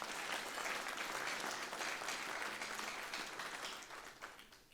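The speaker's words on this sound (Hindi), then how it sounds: "जोरदार तालियां अपने लिए बजाइए।" Teachers at a state-level education conference in Rajasthan break into a hearty round of applause, a dense, even wash of many hands clapping throughout that tapers slightly toward the end, with no speech over it.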